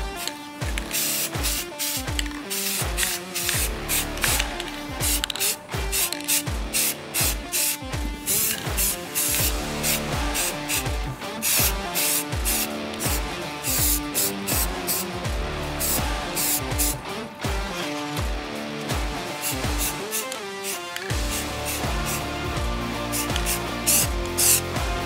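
Spray paint goes on as a second covering coat over a truck headlight panel during a blackout job, in rapid repeated hissing bursts with short pauses, close and fairly loud with no talking.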